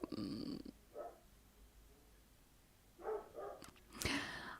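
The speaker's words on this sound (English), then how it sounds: "the dog is barking and it's distracting me" Short bursts of a dog barking indoors, a few muffled barks at the start and again near the end, separated by quiet stretches.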